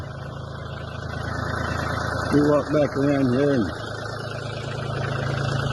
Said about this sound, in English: while the tractor's warming up